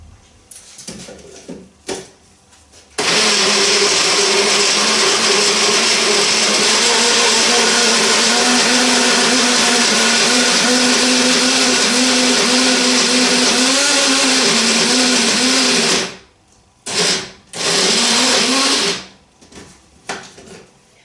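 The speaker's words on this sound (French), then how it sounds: "je vais voir si ça pourra se mixer dans ce petit mixeur" A small electric mixer with several bowls blends a raw vegan spread, a loud steady motor whir running continuously for about thirteen seconds, then stopping and briefly restarting in short bursts.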